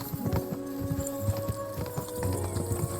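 A fast horse gallops in Kingdom Come: Deliverance 2, its hoofbeats drumming in a quick, steady rhythm under a low ambient hum, with no talk.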